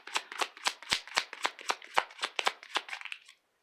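A new deck of tarot cards being shuffled by hand, a steady series of crisp riffling snaps and soft slaps repeating about every quarter second, close and alone without voices.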